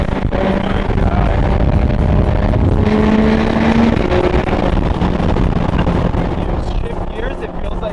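Lamborghini Huracan Super Trofeo EVO 2 race car driven with gear shifts, a loud, harsh engine drone with abrupt pitch changes inside the cabin, heavy wind and road roar throughout.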